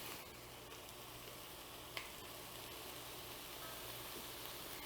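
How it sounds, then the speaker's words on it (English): Three Sisters salad vegetables sautéing in a pan with salt and pepper, a faint continuous sizzle with one brief click of a utensil, no talking. "And now we want to just let it saute for a couple of minutes."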